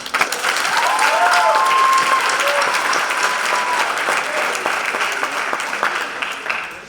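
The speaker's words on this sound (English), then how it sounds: "let's give another round of applause to President BOTSTEIN and the faculty and staff of BHSEC" Steady, full crowd applause from a high school commencement audience, sustained throughout with faint cheers mixed in.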